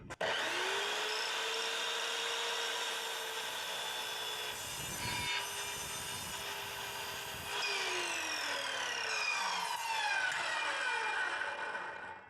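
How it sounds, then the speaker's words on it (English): An Evolution R210CMS metal-cutting miter saw slices through wood with nails in it, a loud steady whining cut with a brief shift in tone partway through and the motor spinning down at the end, with no talking. "So I'll just cut right through those nails."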